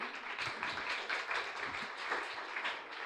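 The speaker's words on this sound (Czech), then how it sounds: "ještě když zatleskáme Eugenovi." Audience applause after a talk in an art discussion panel, a steady dense wash of many hands clapping at a distance, fairly soft, without voices.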